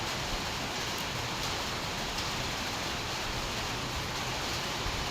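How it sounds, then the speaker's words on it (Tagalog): Steady rain falling outdoors, a quiet continuous hiss of even intensity with no talk over it. "Hayaan mo yung ulan. Di naman tayo maulanan."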